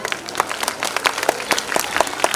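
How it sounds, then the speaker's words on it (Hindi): Applause for the mothers at a family tribute event, a crowd clapping steadily with sharp overlapping hand claps throughout, fairly loud and close with no talk over it. "तो जितनी माँ हैं उनके लिए एक जोरदार ताली"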